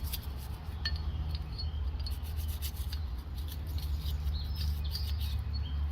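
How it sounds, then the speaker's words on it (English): A brush scrubs dirt from the parts of a Glock 26 pistol, giving a steady, close, continuous scratchy rubbing with no pauses. "Alright, so let me get in here with my brush."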